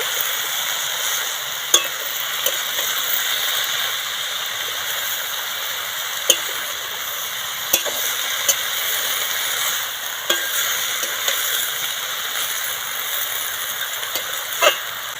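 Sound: spinach being stirred in a pan on low heat

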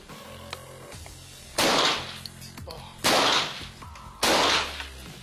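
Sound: gunshot from a TriggerSmart smart rifle fired while wearing the ring

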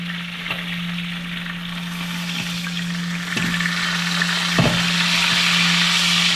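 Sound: fish frying in oil

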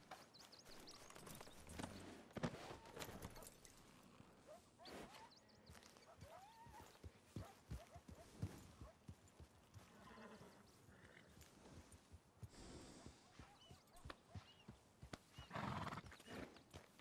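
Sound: horse

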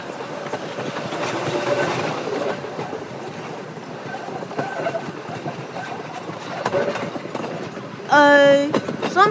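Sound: express diesel train passing non-stop

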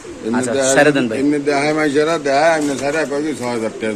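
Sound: racer pigeons cooing

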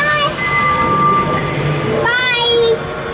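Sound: riding inside a train

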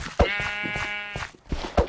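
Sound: sheep bleating in video game Minecraft

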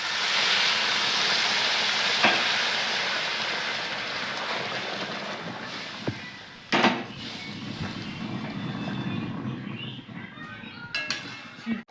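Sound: hot water poured into the pan of rajma

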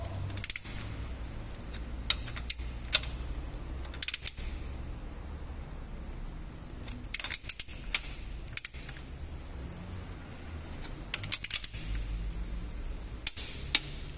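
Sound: torque wrench tightening GM engine bolts to 8 kg

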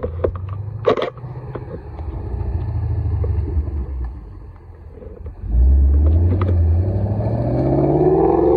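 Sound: green Ford Mustang with a wing driving past

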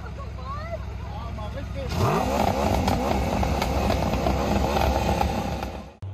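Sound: motorcycle engine roaring

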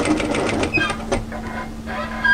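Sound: sewing machine stitching a seam on a knit jacket

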